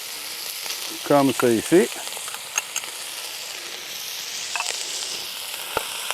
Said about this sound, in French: À cette étape-ci, on va rajouter notre oignon. Et on va rajouter en même temps notre poivron rouge